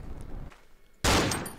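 A sudden loud gunshot in the horror video game Cry of Fear bursts out after a quiet stretch, then rings and fades briefly. No one speaks.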